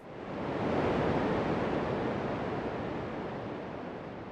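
A synthesized noise layer from the Harmonic Bloom instrument swells into a broad, steady hiss like crashing ocean surf. It rises over the first second, then holds and slowly fades, with no voices.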